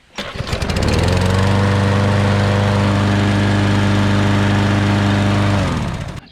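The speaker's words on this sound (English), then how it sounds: "Husqvarna, you make one mean push mower." Husqvarna self-propelled push lawn mower engine running at a steady loud drone for about five seconds, close by, winding down at the end with no talking.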